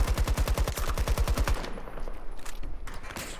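Rapid automatic gunfire in Battlefield 2042 hammers out a fast, even burst of shots, then stops abruptly, leaving fainter scattered distant shots and game noise.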